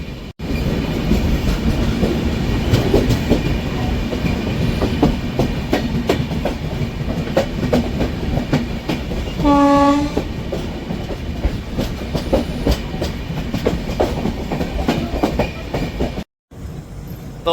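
Konkan Railway passenger train at Chiplun station, a steady close rumble of carriages with clickety-clack and a short multi-tone horn midway, ending in a brief cutout.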